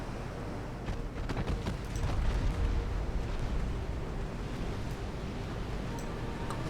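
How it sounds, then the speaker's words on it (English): A torpedo detonates in Ultimate Admiral: Dreadnoughts as a deep, muffled rumbling blast that swells around the middle and slowly fades, with no voices. "Torpedo detonation, outstanding."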